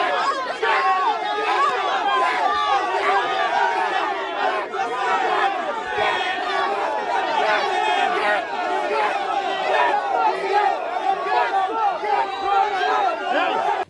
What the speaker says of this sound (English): the crowd erupted in cheers and boos when Public Infrastructure Minister David Patterson arrived on scene and attempted to enter